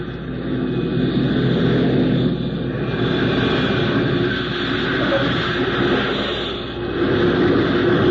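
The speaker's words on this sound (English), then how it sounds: "I'm going to land without full flaps. Want to keep airspeed up to about 120" An airplane lands on ice without full flaps: a loud, steady engine drone and hum fill the whole stretch, with slight swells and dips in level.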